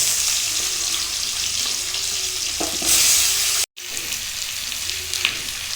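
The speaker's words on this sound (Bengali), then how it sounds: "পেঁয়াজ একটু ভাজা হলে আলু দিয়ে দেবো।" Potatoes and onions fry together in a pan, giving a continuous close sizzle with occasional scrapes of stirring and a brief gap partway through.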